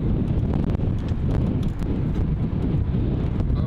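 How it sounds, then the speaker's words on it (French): Steady wind buffets the microphone at a motorcycle track, a constant low rumbling roar that fills the whole stretch with uneven gusty thumps. "Les gars, il y a un peu de vent, désolé."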